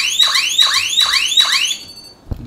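An Intelbras ANM 24 Net alarm siren wails loudly and close by, four rapid rising sweeps repeating in quick succession before cutting off abruptly, followed by a faint click.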